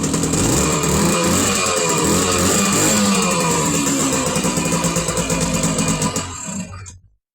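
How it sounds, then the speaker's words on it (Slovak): A small engine with contact-breaker ignition runs loud and close with a steady, slightly uneven mechanical drone, then dies away and falls to silence in the final second. "motor funguje, naštartoval"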